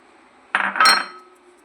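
A metal utensil clatters briefly against a bowl while corn flour and maida batter is being mixed: one short burst of clinking and scraping, close and moderately loud, then quiet.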